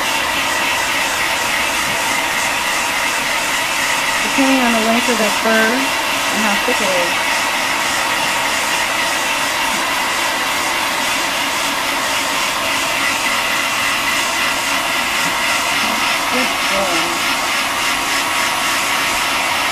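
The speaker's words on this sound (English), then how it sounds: "With a handheld blow dryer like I'm using, completely dry, sometimes takes about 15 to 20 minutes" A handheld blow dryer dries a Persian kitten's fur, giving a loud, steady whooshing roar that runs through the whole stretch while a person talks over it.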